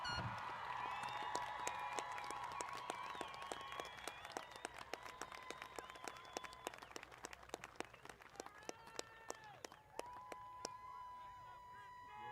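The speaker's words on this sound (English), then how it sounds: "give these wonderful people a huge round of applause" Graduation audience applause at a high school ceremony, a broad layer of clapping with scattered whoops and crowd noise that runs steadily for about ten seconds before thinning out.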